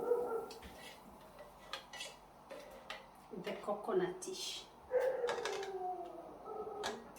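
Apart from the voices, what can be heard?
dogs barking and howling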